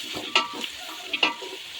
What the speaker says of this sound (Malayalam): ഇത് നന്നായി ഒന്ന് വഴറ്റിയെടുക്കണം.